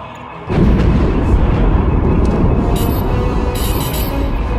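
A loud, sustained roaring rumble of heavy spaceship cannon fire in Star Wars: The Old Republic kicks in after a brief quieter moment and continues steadily, with sharp bursts layered on top.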